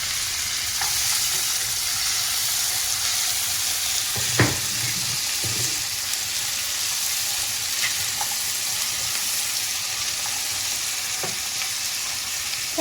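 Tomatoes and cashews sizzle with translucent onions in a pan, a steady close frying hiss broken by a few stirring scrapes and clinks.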